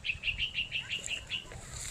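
Small birds call from a tamarind tree wrapped in vines, giving a quick run of about eight evenly spaced high chirps, fairly faint over a low outdoor background rumble.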